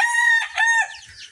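A fighting rooster crows with a strained, drawn-out call on a farm, followed by faint low clucking, close by with no talking.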